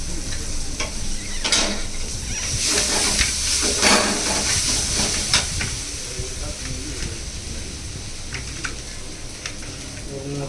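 Dried red chillies frying in a pan of oil for chicken gravy, giving a steady close sizzle with bursts of stirring and scraping that fade to a quieter hiss.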